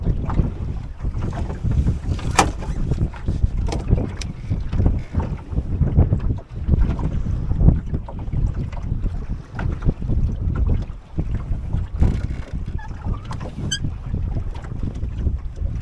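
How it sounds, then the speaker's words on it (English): Steady wind rushes and buffets a microphone outdoors over water during a sailing race, with gusts rising and falling continuously and no voices. "It's kind of windy and breezy"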